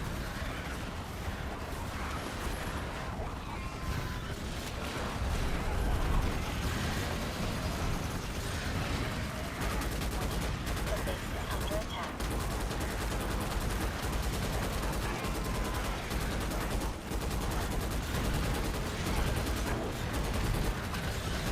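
Dense, continuous rapid gunfire and explosions in the video game Starship Troopers Extermination, a loud, relentless barrage of overlapping shots with no pauses across the whole stretch.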